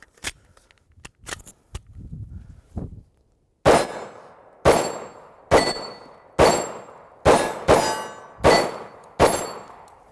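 Hi-Point C9 pistol shots ringing off steel targets: after a few quieter clicks and handling sounds, eight loud, sharp cracks with metallic clangs come at a steady, roughly once-a-second pace, each decaying quickly.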